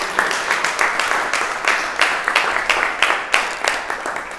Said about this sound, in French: Est-ce qu'on peut les acclamer